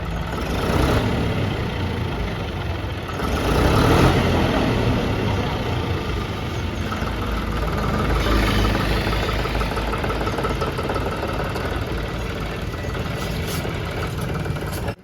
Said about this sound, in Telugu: ఇంజన్ ఆయిల్ చేంజ్ చేసినతోనే మనకైతే ఎంత సౌండ్ చేంజ్